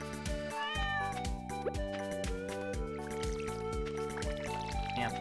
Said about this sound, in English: Damn cat.